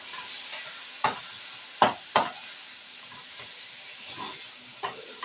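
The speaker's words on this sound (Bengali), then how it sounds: "টক দইটা দিয়ে কিন্তু আবারও মিনিট 5 মতন কষিয়ে নেব" Pangas fish curry with sour yogurt stirred and sautéed in a pan, a soft low sizzle broken by several sharp spatula scrapes and clacks against the pan.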